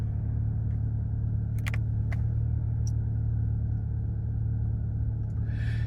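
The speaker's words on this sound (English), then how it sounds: "Engine's cold, but that's straight into a nice smooth idle with no warning lights on" An Audi S3 Sportback quattro engine, started cold, hums in a low, steady idle, with a few faint clicks and a brief hiss near the end.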